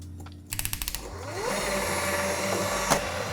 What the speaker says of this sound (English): we are going to continue beating this on high for about 6 minutes until it has tripled in volume